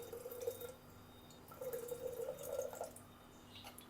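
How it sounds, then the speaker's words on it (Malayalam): Tamarind water poured into simmering ginger curry (inji curry), a soft, close liquid splashing and bubbling that comes in two short bursts over a quiet background. "കുറച്ചും കൂടെ പുളിവെള്ളം അതിനകത്തോട്ട് ചേർക്കാം"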